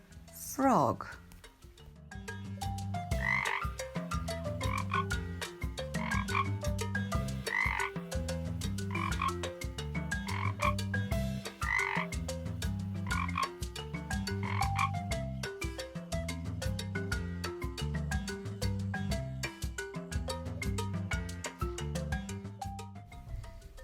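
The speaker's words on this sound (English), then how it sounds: "frog." Frogs croak loudly and continuously in a regular repeating rhythm for the whole stretch, close and dominant, with no talk over them.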